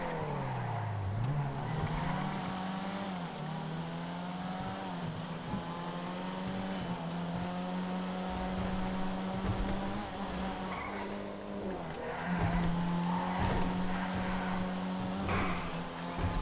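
Race car in the GTA FiveM video game, the engine revving up and down through a run of corners with repeated tire squeals and skids, loud and continuous with no talking.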